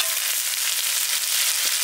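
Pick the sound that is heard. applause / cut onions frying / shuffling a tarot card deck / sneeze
cut onions frying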